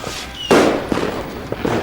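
Gunfire in the Western video game Call of Juarez Gunslinger: one sharp, loud shot followed by a few fainter pops and clicks over a soft ambient background.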